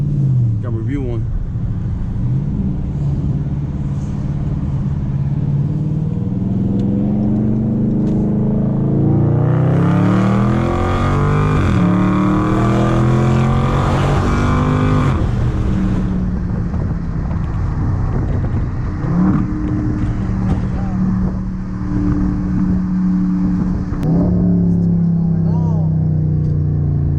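A 2019 Dodge Charger Scat Pack V8 rumbles while driving and rises into a loud, sweeping rev before settling back to a deep burble, with people talking over it at times.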